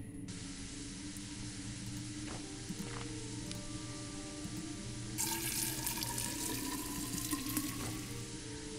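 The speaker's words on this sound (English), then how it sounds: "Water in the pot, ready to cook." Water pours steadily into a cooking pot inside the Fran Bow video game, a continuous tap-like rush and splash with no talking, turning brighter and louder during the last few seconds.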